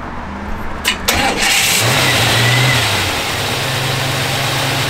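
A 1940 Ford F1 pickup truck engine cranks and fires up, then settles into a steady, fairly loud idle with a low rumble, heard close by with no talking.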